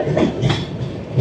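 The Garib Rath Express rolls along the line from Agartala toward Kolkata, a loud steady rumble with rhythmic wheel clatter heard from inside the moving train.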